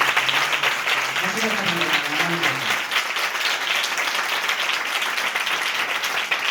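A church congregation applauds together for mothers during a Telugu gospel prayer service, a steady broadband wash of many hands clapping throughout, with a voice briefly audible under it near the start.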